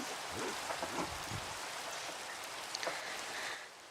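Rain falls in the video game Minecraft as a steady, soft hiss of drops that stays even and fairly quiet throughout, with no voices.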